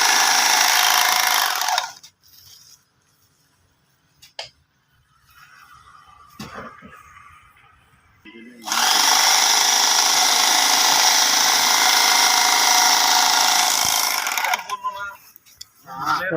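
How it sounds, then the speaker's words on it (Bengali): An industrial bag-closing machine stitches shut the mouth of a roughly 40 kg feed sack, whirring loudly in two bursts separated by a quieter stretch with faint voices and handling noise. "অত্যাধুনিক মেশিনে বস্তার মুখ সেলাই করা হচ্ছে"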